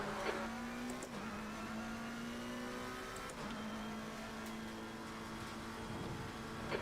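A race car on a circuit track drones past with a steady engine note that shifts pitch, a high whine sitting under broadband road and wind noise, fairly close and continuous with brief mechanical clicks.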